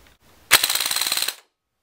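Airsoft M16 VN custom build firing a single full-auto burst of about one second for a rate-of-fire test, a fast, even, loud rattle of shots that stops abruptly.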